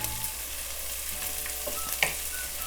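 Potato, peas and carrot curry sautés in a pan with a close, steady sizzle and crackle, plus a few brief stirring scrapes and clinks.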